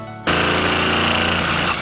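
A power drill bores a hole for a clock mechanism in a clock plate, its motor kicking in abruptly and grinding loudly and steadily at close range, with no talk.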